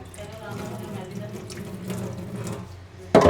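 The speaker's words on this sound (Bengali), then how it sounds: "এটা মটরের ডাল ধুয়ে দিলাম" Split peas (motor dal) rinsed under a running kitchen tap, a steady close rush and splash of water over the grains that bursts louder at the very end.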